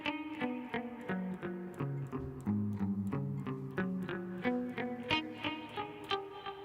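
Clean, evenly plucked guitar notes in a steady finger exercise, each note ringing distinctly as the sequence moves up and down across the strings, played alone at a moderate pace.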